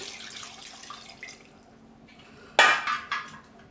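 Reserved water is poured into a tomato chili paste for tomato pullagura. Light kitchen clinks come first, then a sudden splashing pour that trails off in short gushes.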